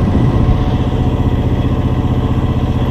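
A John Deere X724 lawn tractor fitted with a 54-inch snow blower runs steadily close by, its engine giving a continuous throbbing drone with no voices over it.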